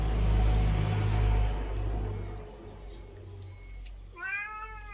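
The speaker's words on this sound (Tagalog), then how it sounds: "Meron din yung pusa." A low engine rumble fades out, then a cat gives a short, clear meow near the end.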